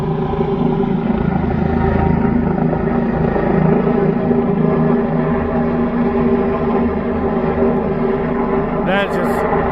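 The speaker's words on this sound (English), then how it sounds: "Okay, now they're taking off." A helicopter lifts off at Bell Rock, a steady loud rotor-and-engine drone with layered harmonic hum throughout, close and continuous, with a brief whine near the end.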